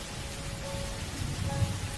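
Rain falls steadily as a soft, even hiss, faint and continuous with no other clear sounds.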